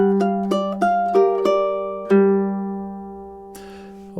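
Ukulele picking measures four and five of a TV theme: a quick run of plucked notes, then a held chord left ringing and fading, ending with a light brush of the strings.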